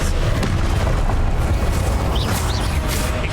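A Confringo explosive spell going off in the Hogwarts Legacy video game, a loud continuous booming roar with crackling bursts throughout, close and dense, without talking.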